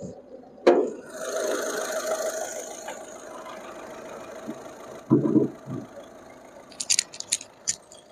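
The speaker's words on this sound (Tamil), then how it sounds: "இப்போ இன்ஜின் நம்ம ஸ்டார்ட் பண்ணிட்டோம்." A Skoda Rapid car engine idles close by with a steady, even hum after an initial thump. Later a few dull knocks and light clicks break in over the running engine.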